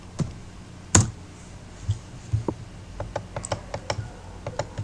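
Comments typed on a computer keyboard for a Windows Server 2008 exercise: close, crisp key clicks in an uneven burst that quickens toward the end, with one heavier thump early on and no talking.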